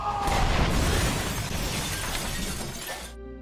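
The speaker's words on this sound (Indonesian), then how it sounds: "ia pun melemparkan sebuah granat ke arah si anjing, hingga membuatnya terbunuh beserta dengan bodyguardnya" A grenade blast in an action film tears through an apartment corridor, killing a dog and bodyguards: a loud, dense burst of shattering and booming debris that rumbles on for about three seconds, then cuts off abruptly.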